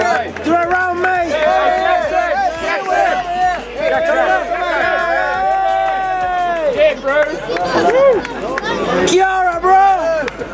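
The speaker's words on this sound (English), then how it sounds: "So the cheering behind me is the grand finale of the weigh-in." A crowd cheers and shouts at the grand-finale weigh-in of the World Spearfishing Championships in Peru. Many voices overlap in loud, continuous whoops and hollers, with talk mixed in.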